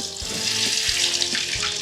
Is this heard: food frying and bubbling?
yes